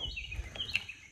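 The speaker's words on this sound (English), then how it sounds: "You can hear the birds, chirpy chirpies." Birds chirp in the woods along a rural road: several thin, high tweets and short calls at moderate distance, scattered quickly over a quiet background.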